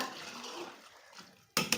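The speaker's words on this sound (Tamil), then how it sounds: "ஒரு கப் அரிசிக்கு ரெண்டு கப்பு தண்ணி சேர்த்துக்கிறேன்" Water is poured into a pot of rice for vegetable biryani, a soft, steady pour with a louder splash near the end.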